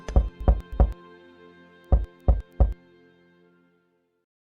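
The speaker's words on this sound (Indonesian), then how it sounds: "Kesuna mengetuk pintu." Knocking on a door in two groups of three sharp, loud, resonant raps with a pause between, each knock ringing briefly before fading to silence.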